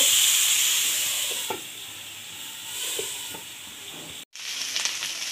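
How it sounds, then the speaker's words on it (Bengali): Chicken boti kabab frying in mustard oil gives a steady, close hiss and sizzle, with a few soft pops and clinks and a brief drop to silence near the end before the sizzle returns. "বাকিগুলো এভাবে ভেজে নিই আমি আরেকবার একটু সরিষা তেল দিয়ে দিয়েছি"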